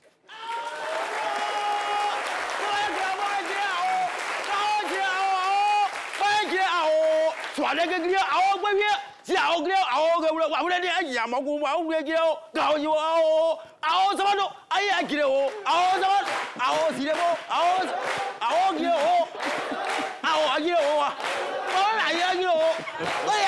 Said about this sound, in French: Merci d'applaudir très fort notre invité